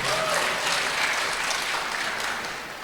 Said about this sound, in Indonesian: Tepuk tangan untuk Pak Haji Hendi